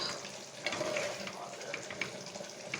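Chicken seasoned with Everest chicken masala fries in a pan with a little water, giving a close, steady sizzle with scraping stirs and small crackles throughout.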